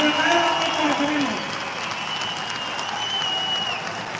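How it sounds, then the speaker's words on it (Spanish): A large crowd at an arena show gives an artist a loud ovation, with applause and crowd noise that swell at first, then settle into a sustained, slightly softer roar. "Despidámoslo con un aplauso, con una ovación."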